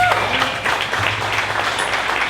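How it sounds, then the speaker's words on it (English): An audience at a 1 Million Cups Dallas startup pitch event stands and applauds a presenter, a dense, steady wash of clapping that holds at an even level for a couple of seconds without voices. "let's go ahead and stand up and give Angel from Nawkr a round of applause"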